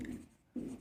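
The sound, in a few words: writing on paper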